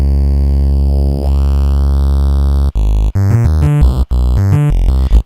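An Ableton Operator synth tone rich in high harmonics over a strong bass, first a sustained sweeping note, then rapid choppy repeated stutters, loud and alone.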